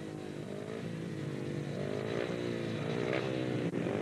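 Tony Richardson's speedway motorcycle revs steadily and fairly close during small adjustments, a buzzy continuous engine note with slight rises, no voices.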